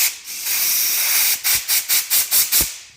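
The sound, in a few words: compressed air blowing through tiny carburetor pilot jets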